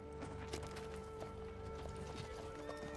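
Horse hooves clip-clop steadily through a film battle-camp scene from The Lord of the Rings, a rider approaching with the rhythmic beats layered over a dense, constant soundtrack bed.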